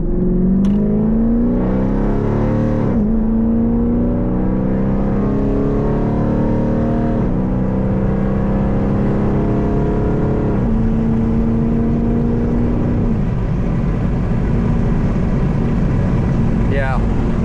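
A tuned Jeep with a 5.7 engine accelerates hard and close by, its loud rising roar dropping at about four gear shifts before climbing again, with no talk over it.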